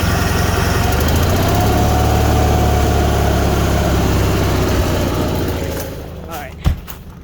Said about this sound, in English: you want to make sure you run it and then shut the fuel off until it shuts off on its own